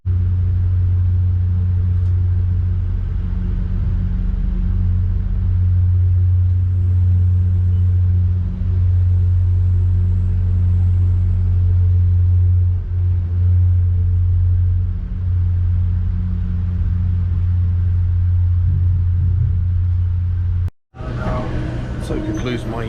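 A steady, loud low rumble fills the cabin aboard an Amtrak Downeaster train in motion, continuous throughout, then a sudden cut near the end.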